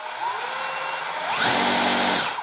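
Bosch Profactor 18V SDS-plus rotary hammer in auto mode, running steadily and then ramping sharply up in speed to a louder, higher whine before easing off, close and alone.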